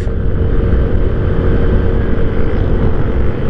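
A Yamaha Fazzio scooter cruises in eco mode at around 60, its engine giving a steady, close, even drone mixed with rushing wind noise and no talking.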